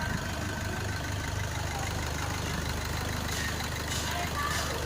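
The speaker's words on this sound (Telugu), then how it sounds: "ఎక్సలెంట్ కండిషన్లో ఉంది ఇంజన్." A Maruti Brezza car engine idles steadily in excellent condition, a low continuous rumble with no knocks or misfires, heard close and alone for several seconds.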